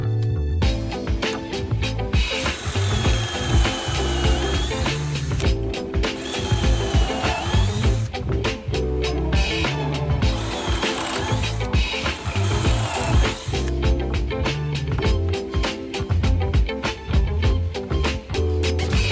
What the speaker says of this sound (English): I just clamped them in place and then drove in a couple of pocket screws.